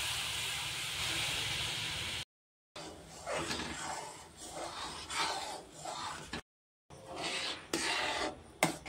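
Mango pulp with pectin cooks in a pan for jam, and it is stirred in repeated rasping, rubbing strokes over a hissing background. The sound drops out briefly twice.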